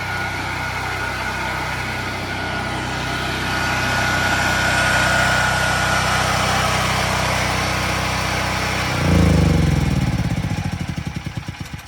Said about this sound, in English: You're going to shut the generator down.